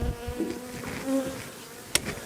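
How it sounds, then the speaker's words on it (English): Honey bees buzz close by during a hive inspection, a wavering drone rising and falling around the frames, with a sharp tap on the frame near the end. "I got some bees hanging on this one"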